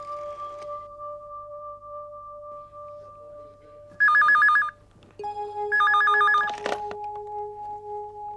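A telephone rings on a TV serial set, first a steady tone, then two bursts of loud electronic trilling bell rings separated by a short gap, with a dial tone continuing underneath.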